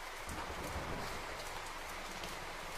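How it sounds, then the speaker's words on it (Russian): Rain falling in the video game Minecraft, a soft, steady patter of drops with a dense hiss, quiet and continuous without voices. "Причем сейчас дождь"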